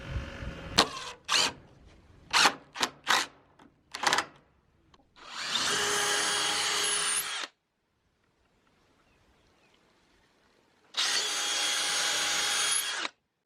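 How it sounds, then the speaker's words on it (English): A power drill whirs in short, quick bursts, then runs in two longer steady stretches separated by a quiet pause. Close and loud, with no talking. "when you're drilling in with them, sometimes they'll just catch and they'll just start jamming forward"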